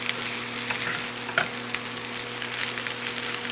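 Grated hash brown potatoes fry in a pan over raised flame, giving a steady, even sizzle throughout with a faint scrape partway through and no voices.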